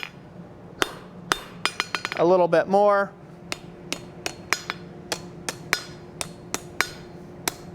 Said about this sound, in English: We're going to hammer each one of those steps